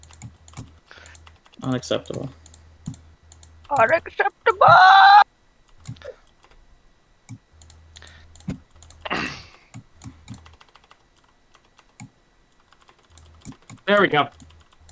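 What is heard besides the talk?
typing on a computer keyboard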